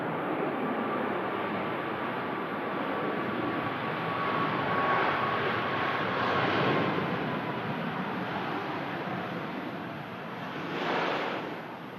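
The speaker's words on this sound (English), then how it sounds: "It's landing Ryanair in from Alicante." A Ryanair passenger jet arriving from Alicante lands at Manchester Airport, its engine roar a steady broad rumble that swells slightly mid-way and again near the end, heard from a distance with wind-like noise and no talk.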